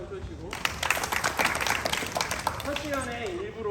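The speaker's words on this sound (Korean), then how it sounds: "박수 쳐주시고" A group claps in applause in a classroom, a steady burst of many hands spreading through the room, with talk and a voice continuing over it toward the end.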